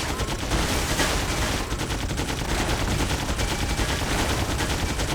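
Dense, continuous gunfire in the PC game Torchlight, a loud rattling volley of rapid shots that runs unbroken for about five seconds.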